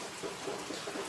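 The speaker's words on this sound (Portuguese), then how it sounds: "Tá chovendo." Rain falls steadily outside an open doorway, a brief soft hiss of drops and patter with no voices.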